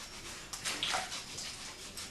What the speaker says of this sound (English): I'm just going to put them in the water, swish my gloves around,